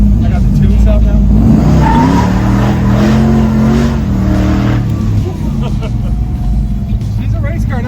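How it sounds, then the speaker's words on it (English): A tuned hot rod car's engine revs hard near the microphone, its tires squealing and skidding as it accelerates to about 43 mph, then settles to a steadier drone while people whoop and talk over it. "She's a race car now, Murph."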